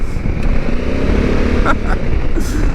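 A Honda Africa Twin adventure motorcycle of about 100 horsepower accelerating on a gravel road, its engine droning loud and close with wind rush throughout.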